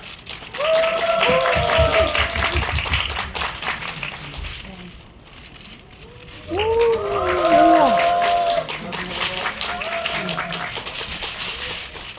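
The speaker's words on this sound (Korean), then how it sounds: "큰 박수 부탁드립니다" A cinema audience claps for a film team's stage greeting on a holiday weekend, scattered applause rising and fading twice, with someone speaking over it through a microphone.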